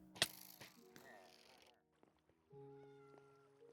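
In a survival video game, a cat gives a sharp, loud meow near the start, followed by softer mewing cries and tonal game sounds, with no talking.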